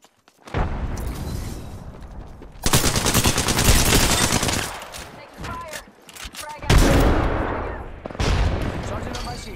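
Bursts of rapid automatic gunfire in the Apex Legends battle royale game crackle loudly in several separate volleys over a few seconds, with some voices mixed in.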